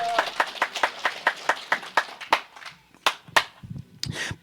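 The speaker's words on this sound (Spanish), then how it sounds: "dale palmas a Cristo" A church congregation at a village fiesta claps in a steady, fairly close rhythm, about a dozen sharp claps that then break up into a few scattered ones, with little talk.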